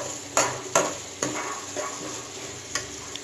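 Ingredients for a Kerala-style kuzhambu are sautéed in a pan with a light steady sizzle. A spoon scrapes and taps against the pan several times at irregular intervals, and no one speaks.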